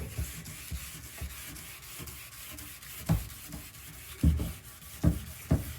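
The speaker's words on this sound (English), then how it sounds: "And I know I'm using this sanding block here, but come on." Wet sandpaper on a sanding block rubbing back and forth across a car headlight lens during restoration, a soft low scraping with rhythmic strokes and several louder pushes near the end, close up and with no talking.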